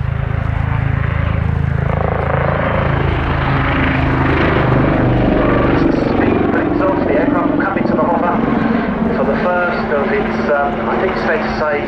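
An aircraft engine roars loudly and continuously through a steep pull up, with a dense, sustained drone and shifting tone, mixed with crowd or commentary sounds.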